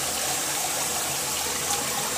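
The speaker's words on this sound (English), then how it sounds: "right now the fill valve is filling it at the bottom, is filling the bowl" A toilet fill valve refills the tank and bowl after a flush, a steady continuous rush of running water with little change in level from start to end.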